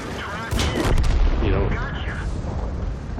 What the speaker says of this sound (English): it looks like maybe there was an artillery shot that came in also